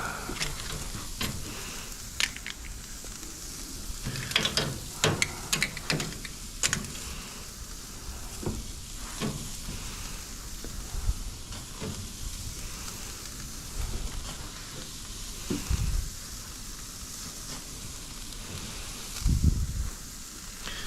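Skirt steak and onions sizzle on a grill in Tokyo, a continuous crackling hiss with scattered pops and scraping bursts as pieces are dropped and moved, fairly close and without talk.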